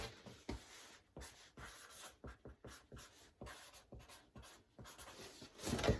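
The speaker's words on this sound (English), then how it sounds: "Excuse me, I'm going to write it." A marker or pen writing the term gill arch on a board, with close, quiet scratchy strokes in short irregular bursts and a louder rub at the end.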